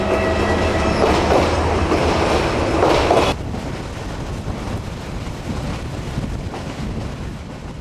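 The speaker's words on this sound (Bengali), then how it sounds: "এই সেই চট্টগ্রাম রেলওয়ে স্টেশন।" A train rumbling at Chittagong railway station in Bangladesh, a loud continuous roar of rolling wagons with rhythmic clatter that drops to a softer steady rumble partway through.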